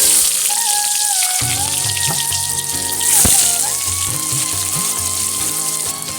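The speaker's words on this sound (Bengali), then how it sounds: "এবার ওই তেলে আলুটা ভাজবো।" Potatoes frying in oil in a home kitchen during a vegetarian Kashmiri paneer recipe, giving a steady, loud sizzle with a faint crackle under a sustained background tone.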